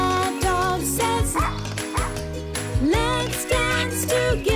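A dog's bark sung within a children's nursery-rhyme song, set against bouncy instrumental music with a steady beat; the barking sounds are stylised and musical, mixed into the melody rather than standing alone.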